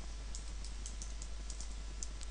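Quick, even typing on a computer keyboard while renaming a value in a tutorial, a close run of light key taps over a low steady hum.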